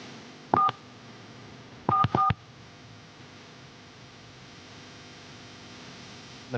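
Answering machine emitting electronic beeps during message playback: a short tone near the start, then a quick pair of beeps, all over a steady low hiss with no speech.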